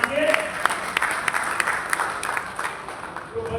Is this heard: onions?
no